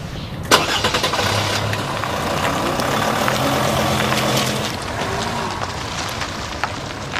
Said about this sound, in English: They're driving away.